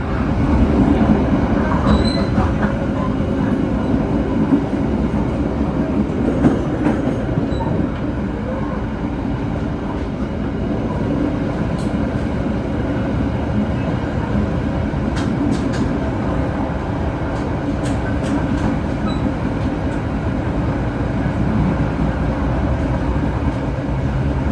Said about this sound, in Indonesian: Dan boginya nggak gemblodak kayak gini ya. Ini kayak mau gempa gitu rasanya.